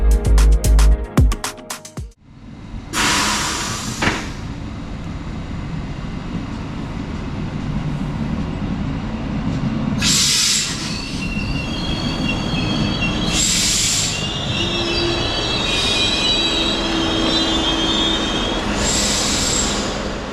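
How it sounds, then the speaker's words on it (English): A Class 628 passenger train rumbles into a station on the Rott Valley Railway, rolling steadily with repeated high-pitched wheel squeals. A loud thud comes at the start, and no voices are heard. "now we can take a look at the arrival of my very special train today"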